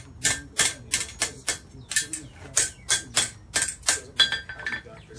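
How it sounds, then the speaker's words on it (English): A hammer strikes a heated metal bend while forging a colonial-style candleholder: about a dozen sharp, ringing blows land in a quick, uneven rhythm, close and loud. "always hammer the bend down"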